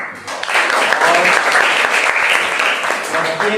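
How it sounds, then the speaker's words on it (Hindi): An audience claps continuously at a children's quiz activity, a dense, steady burst of applause with a voice faintly underneath. "एक बार पुनः इसलिए ताली बजनी चाहिए"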